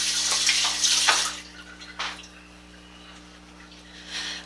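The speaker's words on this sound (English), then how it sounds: "Wash my hands." Tap water runs in a home kitchen for handwashing during sweet potato pie prep: a steady, close hiss of flowing water, strongest in the first two seconds, then easing to a softer stream with a low background hum and no talk.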